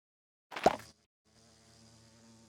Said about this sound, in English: it looks like we've got another chocolate mining bee